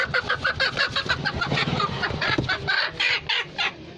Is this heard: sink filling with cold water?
no